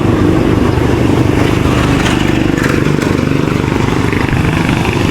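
A motorcycle engine drones loud and steady throughout a ride, a dense continuous roar with wind rumble and no pauses.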